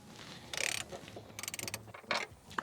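A ratchet clicks in short bursts while loosening seat bolts inside a Toyota 4Runner, close and fairly quiet, with brief pauses between pulls.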